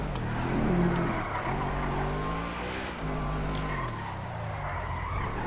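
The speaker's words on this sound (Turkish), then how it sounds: "Araba çok hızlı bir araba ama gerçekten." A fast car in the video game GTA 5 drives steadily, its engine droning and shifting pitch with brief revs over constant road noise.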